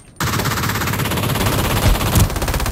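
Loud, sustained automatic gunfire in the Ring of Elysium video game starts abruptly and keeps going as a rapid, dense stream of shots, close and continuous without pause.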